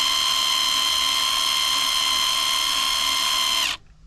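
A power drill whines loud and close at a steady high pitch while drilling inside a camper van, then cuts off sharply just before the end.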